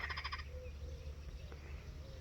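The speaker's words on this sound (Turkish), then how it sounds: "Sanırım şuradaki dişi bir kurbağa." A frog gives a short burst of rapid croaks close by, then falls quiet under a faint outdoor hum at dusk.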